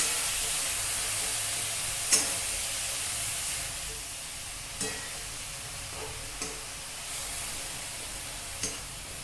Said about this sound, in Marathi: पालक शिजेपर्यंत छान परतून घेऊया।